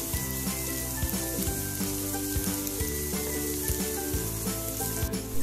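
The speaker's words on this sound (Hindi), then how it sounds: "ये मैं अपनी प्याज को अच्छे से भून लूंगा जब तक कि ये ट्रांसपेरेंट नहीं हो जाती।" Onions frying on a flat griddle tava for Mumbai street-style masala pav, a steady dense sizzle with regular scraping strokes of a spatula tapping the metal, close and loud throughout.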